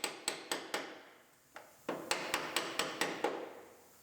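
A metal scraper is hammered into a Mustang GT quarter panel to cut it away from the wheelhouse, giving a series of sharp, close metallic strikes in uneven runs, with a short pause between the groups.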